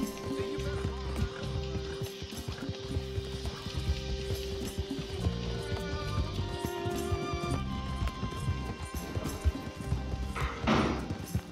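Horse hooves clip-clop in a rhythmic, steady gallop in the Red Dead Redemption 2 video game, with clatter and game sounds mixed in and a brief crash near the end.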